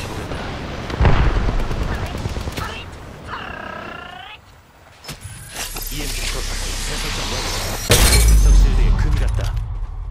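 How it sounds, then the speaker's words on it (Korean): An Arc Star grenade is thrown and detonates during an Apex Legends match, with crackling mechanical clatter, gunfire-like bursts and electric whines amid game effects, followed by a deep rumbling blast, with voices over the action. "아크스타 투척."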